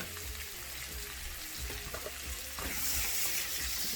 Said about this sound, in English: Then I'm going to add in onion, sliced onion, not diced, and some sausage.